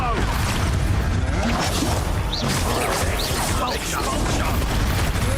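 Expulso spell blasts in Hogwarts Legacy during a combat trial, loud crashing impacts and whooshing bursts packed together in a constant din of game battle noise.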